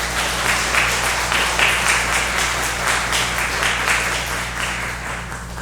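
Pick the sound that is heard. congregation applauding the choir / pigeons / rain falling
congregation applauding the choir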